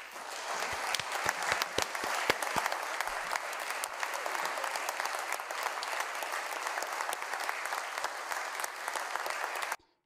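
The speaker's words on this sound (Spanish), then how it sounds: "Aplauso, por favor." Audience applause fills a parliamentary chamber, a dense steady round of clapping from the assembled deputies and gallery lasting nearly ten seconds before stopping abruptly.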